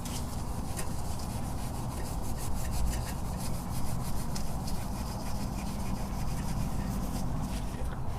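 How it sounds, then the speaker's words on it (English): Steel wool scrubs continuously around the sealing border where a car's transmission filter mounts, a close, steady rasping rub with fine rhythmic strokes and no pauses. "I'm just going to continue with the steel wool around the whole border"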